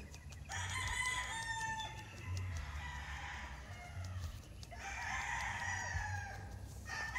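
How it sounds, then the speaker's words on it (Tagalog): Roosters and chickens on a Philippine rooster farm crow repeatedly in long harmonic calls with clucking between, fairly close and prominent over steady low rumble. "Mga bagong manok tayo na diri dapita."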